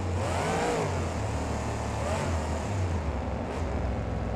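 Lucas Oil Crusader monster truck engine in BeamNG Monster Jam freestyle at Arlington, Texas, revving in rising and falling surges, with a loud swell near the start and another around two seconds, steady and close with no talking.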